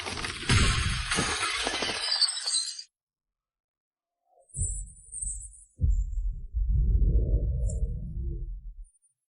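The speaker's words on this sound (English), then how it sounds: "One slash shatters a top-tier weapon." Sharp metallic shattering of a sword broken by a single slash in an audio drama, a loud bright crash up front, then silence, followed by low rumbling impacts and debris.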